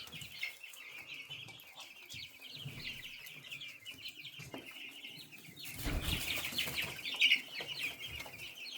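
A flock of purebred German Australorp chickens clucks softly and steadily while pecking at feed topped with boiled egg, with a brief burst of louder activity and possible wing flapping midway.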